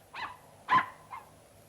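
A small dog yelps and whimpers three times in quick succession, the middle cry loudest and the last fainter, heard fairly near against a quiet background.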